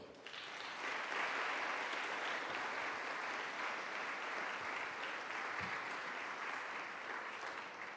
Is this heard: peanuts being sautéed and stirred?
no